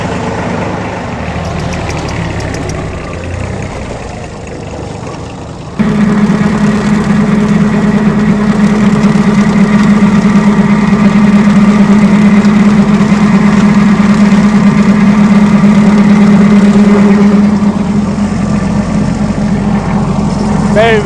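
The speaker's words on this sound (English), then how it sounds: "just sitting on this tractor of Kevin, just poodling around the land, cutting the grass" A tractor engine runs steadily while mowing grass on rural land in a Portuguese village, a loud droning hum with a strong low tone that jumps in level early on and then holds constant.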